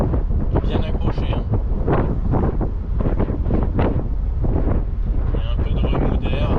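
Wind buffets hard and continuously in an open Opel roadster while driving, a loud, rumbling, low roar close to the microphone, with someone talking underneath it.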